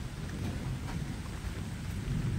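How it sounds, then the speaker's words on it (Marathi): Heavy rain pours steadily with a dense low rumble of thunder running underneath, a continuous loud wash throughout with no voices. "आता पाऊस चालू झालाय ना तेव्हा एकदम खडखड वाजायला सुरुवात झाली मित्रांनो"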